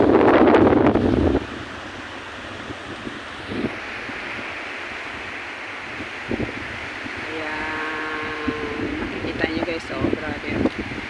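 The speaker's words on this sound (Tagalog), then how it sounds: "Pag malakas kasi ang hangin, grabe ang alon, guys." Strong wind gusts across the microphone at a beach resort in Kuwait, with surf rolling underneath in a steady rush; a voice talks briefly near the start and again later over the blustery noise.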